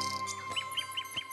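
A nightingale sings a quick series of bright, repeated chirping notes, about four evenly spaced tweets over a faint steady hum, close and fairly quiet.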